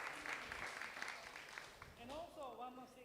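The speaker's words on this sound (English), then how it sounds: "A round of applause for John for supporting us" Audience applause for CEO John standing up at a Singapore event, a dense patter of clapping through the first two seconds before a voice takes over near the end.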